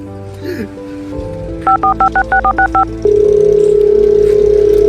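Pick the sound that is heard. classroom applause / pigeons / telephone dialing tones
telephone dialing tones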